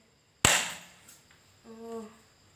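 A Super Gun toy pistol fires once with a single sharp, loud crack that fades quickly. A brief, faint tonal sound follows a moment later in a quiet room.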